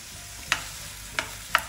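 Tomatoes sautéing with salt in a pan for tomato dosa: a low, steady sizzle underneath, broken by three sharp spatula clicks spaced about a second apart.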